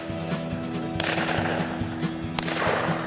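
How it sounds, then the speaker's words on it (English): Shotgun fired during a dove hunt in Wisconsin, sharp sudden blasts cutting through steady outdoor background, with a few cracks over a few seconds and no talk. "Heavy shot, put another dove down."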